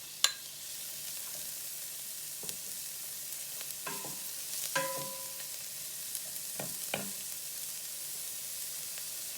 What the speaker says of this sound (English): We're starting off by heating our tablespoon of oil in a pot, and into that I'm going to add my chopped onions.